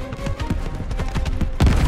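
Dense rumbling booms and thuds from the video game Call of Duty: Vanguard, in a Battle of Midway campaign mission, repeated irregularly, with a heavier, louder blast near the end.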